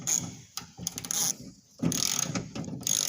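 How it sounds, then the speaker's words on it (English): A 3/8-inch ratchet with a deep well socket removes bolts from a First Gen Cummins electric window assembly, giving bursts of rapid, close metallic clicking separated by short pauses. "he's taking out the bolts. He's got one out already."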